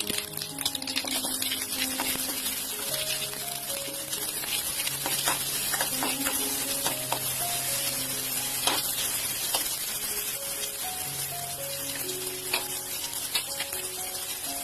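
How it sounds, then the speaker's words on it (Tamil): Cumin seeds and small shallots fry in hot oil for a Tamil pori rasam, giving a steady close sizzle with scattered crackles and stirring taps throughout, no voice present. "சீரகம் நல்லா பொரியட்டும்"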